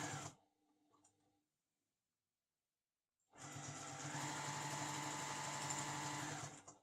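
A semi-industrial straight-stitch sewing machine stitches steadily, a rapid close mechanical whir running for several seconds alone after a few faint clicks and a pause of silence.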